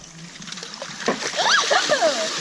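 Water balloons dropped into a pickup-truck hot tub hit the water with splashes and sloshing, heard under excited voices close by.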